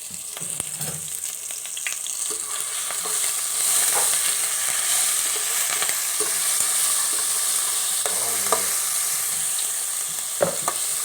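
Onions, tomato, curry leaves, mustard seeds and a green chilli fry in a pan with a loud, continuous, hissing sizzle, broken by occasional scraping stirs close by.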